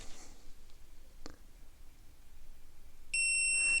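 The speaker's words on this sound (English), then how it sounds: "you hear the beep, it's set" A Balanzza luggage scale lets out a steady, piercing electronic beep near the end as it locks in a weight, after a quiet stretch with one soft click.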